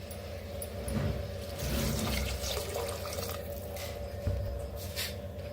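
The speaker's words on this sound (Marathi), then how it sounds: "त्याच्यात ओतूया पाणी" Water splashes and runs steadily into a pot of toasted spice masala for masala rice over a low background hum, with a few wet sloshing bursts along the way.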